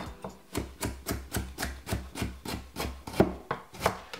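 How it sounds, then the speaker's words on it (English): A knife cuts a carrot into small pieces on a board, with about a dozen crisp, evenly spaced chops in a steady rhythm, close and alone. "Cut up the carrot small."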